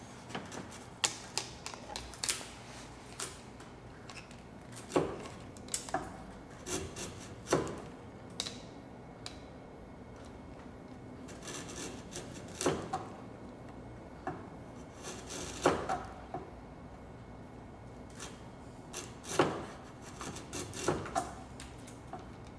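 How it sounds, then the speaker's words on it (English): A 25mm chisel chops waste wood from a dovetail halving joint, producing a series of irregular, sharp knocks and taps spread out over a quiet room background. "We can either use a chisel to get rid of our waste there, or we can cut with a saw"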